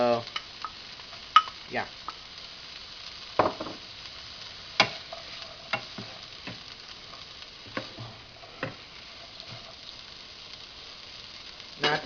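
Two eggs frying and being stirred in a pan with nearly cooked beans for fried rice, with soft sizzling under irregular scrapes and taps of a utensil against the pan; a voice speaks briefly once.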